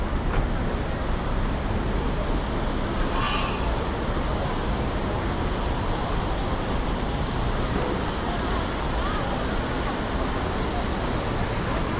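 Busy street traffic in Bukit Bintang, Kuala Lumpur, a dense continuous roar of passing cars and buses with a brief sharp noise partway through, loud and steady throughout.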